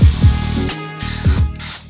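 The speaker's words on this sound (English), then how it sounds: "liberally spray my concoction all over the" A trigger spray bottle mists homemade limescale cleaner onto a tap in a handful of quick, close hissing squirts with short pauses between them.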